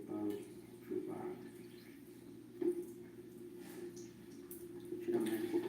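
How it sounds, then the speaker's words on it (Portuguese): Water being siphoned out of a home aquarium that holds an Oscar fish, heard as faint, soft trickling and gurgling with small drips and splashes at irregular moments. "Vou tirar mais um pouquinho de água."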